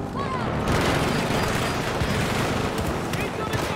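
Dense, sustained gunfire and explosions fill a Battlefield 2042 match, with rapid overlapping shots and booms throughout while a voice talks over the chaos.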